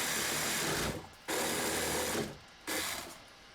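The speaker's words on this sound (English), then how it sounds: "You can see how quick and easy it is to work with this saw." A hand saw cutting through PVC pipe for up-flush toilet plumbing, close and loud rasping strokes in two long passes separated by brief pauses.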